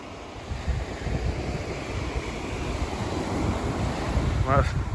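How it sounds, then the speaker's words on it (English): Wind gusts steadily on a sea beach during a fishing competition, buffeting the microphone with a rough, continuous rush over the surf, and a voice briefly sounds near the end. "Wind's picked up now, it's got a little bit chilly"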